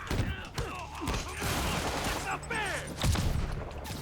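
Enemy gunfire crackles in a Spider-Man video game, quick shot bursts and thuds over game music and effects, with voices shouting between the volleys.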